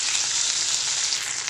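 Washed fresh mint leaves sizzling in oil in a pan, a dense, bright, steady crackle that stays constant and close for a short moment, with no voices.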